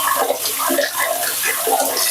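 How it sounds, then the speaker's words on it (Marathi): Cold tap water pours over boiled falooda vermicelli being rinsed, a close, continuous splashing stream with small bubbling fluctuations and no talk. "याला ना आता आपण थंड पाण्याने धुवून घेऊया."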